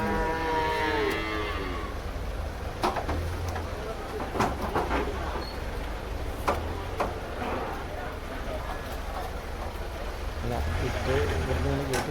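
A cow lows at a busy market, long deep moos heard at moderate distance under a steady crowd murmur and nearby talking.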